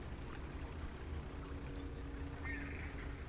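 Steady low engine drone of a fishing boat in the video game Dredge, running a little slower than normal, with water wash and a brief higher tone near the end, no talk over it.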